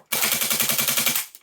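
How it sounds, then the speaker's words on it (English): A Golden Eagle M4 CQB gas blowback airsoft rifle runs on green gas, firing a rapid full-auto string of about a dozen sharp, evenly spaced cracks with mechanical kick, loud and close, then cutting off abruptly. "let's do this rate of fire"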